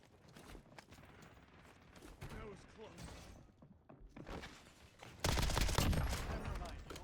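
A PPSh submachine gun fires in a video game, scattered bursts and single shots growing into a loud sustained burst near the end, with a voice speaking between the shots.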